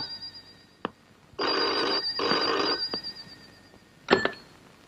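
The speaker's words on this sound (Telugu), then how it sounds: "పాపం ఏదో అర్జెంట్ ఫోన్ కాల్ ఉంది," A telephone rings in two long electronic bursts, fairly close and loud, with a few clicks before and a short clatter after.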